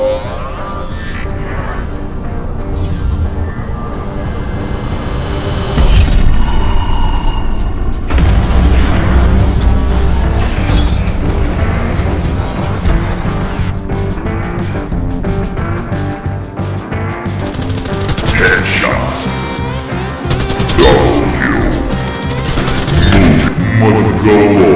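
An AK-103 rifle fires in the Warface shooter game: dense, loud bursts of automatic gunfire with booming impacts and mechanical clatter, layered over a continuous busy background mix for the whole stretch.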